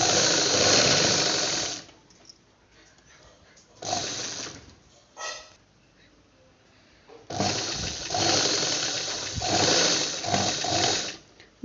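A sewing machine stitching thread runs in loud, buzzing bursts with pauses between them, one long run at the start, a short run mid-clip and a longer stretch at the end, with a faint voice in the quieter gaps.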